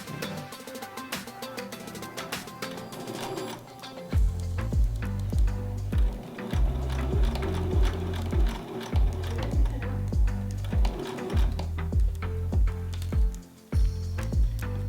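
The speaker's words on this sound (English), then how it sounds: "All right, so now I'm gonna sew the curve, as they say." A sewing machine stitches the curve of a homemade fabric mask. A rapid mechanical whirr starts after a few quiet seconds with faint clicks, then runs in close bursts with short pauses between them.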